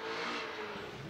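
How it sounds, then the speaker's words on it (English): Exhaust of a Dynasty G37 drift car at full throttle during Pro 2 qualifying at Irwindale, a steady, loud engine drone that holds on for about a second with no talk over it. "Listen to that exhaust now."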